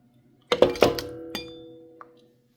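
A hand strainer clinks against a pot of bone broth as the bones are pulled out. Three quick metallic clinks and thunks come close together, then a softer knock and a faint final tap, with a brief ringing tail in a quiet kitchen.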